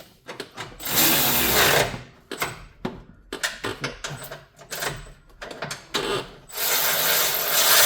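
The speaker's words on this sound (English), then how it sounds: "So I bring my ratchet on the bottom." A ratchet tightens a radiator bolt low in a 2004 Toyota Tacoma 3.4 automatic, giving close, loud runs of rapid clicking in several bursts separated by short pauses.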